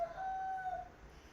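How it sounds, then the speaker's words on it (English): A rooster crows once in a sustained, wavering call that rises and holds before trailing off, heard fairly near over a quiet outdoor background. "Ooh, look at the chicken."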